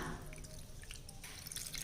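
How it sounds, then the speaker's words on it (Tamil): Water splashes and trickles steadily into a pot of tamarind mix for rasam, with a few sharper drips over a continuous wet rush, close by and fairly quiet. "இப்போ தேவைக்கு தண்ணி விட்டுக்கலாம்"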